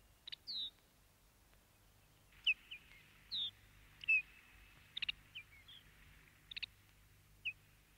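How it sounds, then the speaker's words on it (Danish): Lapland bunting calling in Greenland, a series of short, high chirps and chips spaced irregularly across the clip, fairly close and clear above faint low background rumble. "En af dem, som vi træffer her, er laplandsværlingen, der er i familie med vores hjemlige gudsbog"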